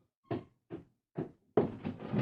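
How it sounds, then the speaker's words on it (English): Several soft wooden knocks and thumps, then a busier rustle and clatter, as a house door is opened in an old radio-style comic reading, close and fairly quiet, with no talking. "The door opens"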